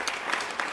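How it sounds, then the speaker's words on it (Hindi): Brief burst of applause for a student's tenth-class exam results at a coaching academy victory celebration, a short dense patter of clapping from a small group, fairly close. "तो उसके लिए भी एक बार ताली बजा देते हैं"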